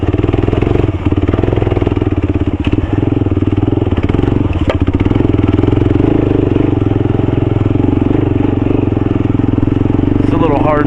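A KLR motorcycle rides along a road with a steady, loud engine drone and wind rumble throughout, while a rider's voice talks over it.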